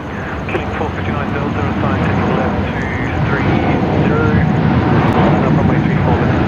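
A FedEx Boeing 777 arriving from Auckland at Sydney Airport, its engines a steady, loud roar that holds throughout, with people talking over it.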